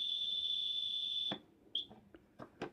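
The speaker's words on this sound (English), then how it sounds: "If the battery's flat, they're designed to keep on beeping" A smoke detector sounds one sustained high electronic beep lasting over a second, then a brief chirp, followed by a few faint clicks and taps nearby.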